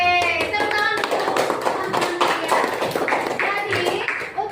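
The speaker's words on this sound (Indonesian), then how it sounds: "Oke, tepuk tangan dulu." Teachers in a coaching session clap hands together as a group, a lively rapid patter of claps mixed with overlapping voices and chatter throughout, close and moderately loud.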